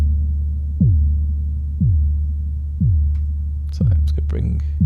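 A dark, throbbing layer from the Nightfall Kontakt instrument pulses once a second with deep, decaying bass hits while its filter cutoff is adjusted, and brighter scattered sounds enter near the end.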